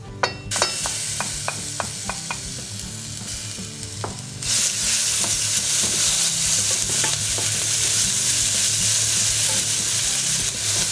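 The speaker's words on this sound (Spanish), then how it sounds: "Ponemos el ajo y el jengibre rallados en el aceite." Grated garlic and ginger drop into sunflower oil after a series of sharp taps and scrapes, then a loud, steady sizzle of frying fills the pan without any talking.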